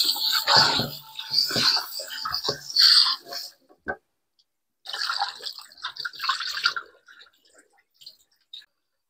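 Tap water runs and splashes as raw chicken is washed in a kitchen, coming in two uneven bursts with a short quiet gap between them and a few faint drips at the end.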